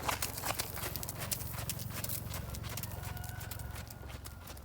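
Horse hooves clip-clop steadily in an even rhythm as the horse is ridden on a circle in an inside diagonal, close and moderately loud against a faint background hiss.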